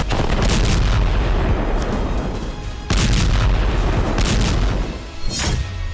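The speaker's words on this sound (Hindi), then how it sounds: "अब भीषण बमबारी की जा रही है।" Heavy bombardment in Khan Younis, Gaza, with loud continuous rumbling blasts and booms that roll over one another, a sharp new burst near the middle, and dense low thunder throughout.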